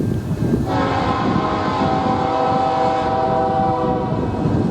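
A Norfolk Southern intermodal freight train passes in Northwest Indiana, a loud, steady rumble of rolling cars with sustained tonal squeal or horn-like tones layered over it throughout, close by.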